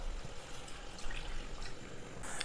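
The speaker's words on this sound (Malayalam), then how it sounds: "ഇനി ഇതിലേക്ക് 2ാം പാല് പിഴിഞ്ഞു വെച്ചിരിക്കുന്നത് 2 കപ്പ് ചേർത്ത് കൊടുക്കാം" Thin second coconut milk is poured into simmering ada pradhaman, a soft, close liquid trickle and splash running steadily for a couple of seconds.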